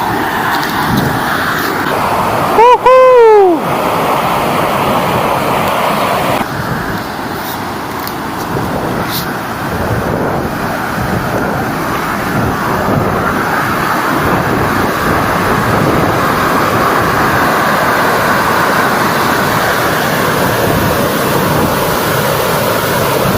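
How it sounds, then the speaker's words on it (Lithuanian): A two-tier waterfall roars in a steady broadband rush, loud and continuous, mixed with wind near a bridge; a brief whistling tone sweeps through early on. "Krioklys 2 aukštų."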